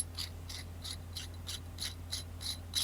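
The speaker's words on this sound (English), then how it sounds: "And I'm gonna screw that on up close to my mic so you can hear." Threaded 510 vape mod parts screwed together up close, a series of faint, evenly spaced scraping clicks of metal threads turning over a low steady hum.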